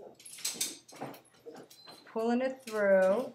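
A pet dog whimpers and whines indoors in two drawn-out, tonal bursts near the end, following a stretch of someone talking and brushing paint onto a backdrop.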